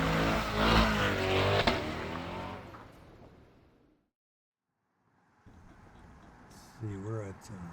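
A race car drives on a road racing circuit, its engine loud and roaring at first, then fading away to near silence before a quieter engine drone returns with a rising rev near the end.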